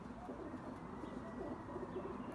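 Pigeons kept by a pigeon fancier coo softly in low, repeated throaty murmurs, close but quiet over a faint background hum, with no voices.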